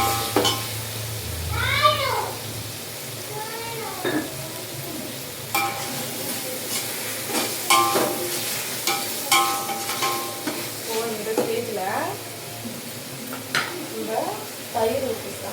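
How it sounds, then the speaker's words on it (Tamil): Tomatoes with a little salt stirred while frying in a pan, a steady sizzle with scraping and clanking stirs, under talk, with a cat meowing nearby several times. "தக்காளி நல்லா கிளறி"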